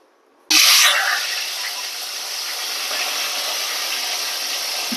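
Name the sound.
water draining from washed taro stems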